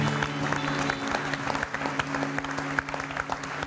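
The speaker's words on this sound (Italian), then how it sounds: "Un applauso" A studio audience on an Italian live television show applauds a guest taking the stage. The steady, moderately quiet clapping continues for a few seconds over a low background hum.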